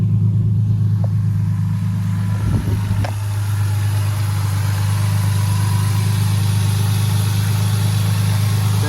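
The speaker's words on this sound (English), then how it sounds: "Hissing noise you hear, power steering column." A Lexus GS300 engine idles with a steady low drone and a faint power steering hiss above it, broken briefly by a short rattle early on.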